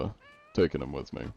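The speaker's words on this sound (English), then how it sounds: "Yeah, that's my cat." A cat meows once, close and clear, between bursts of a man's speech in a multiplayer video game.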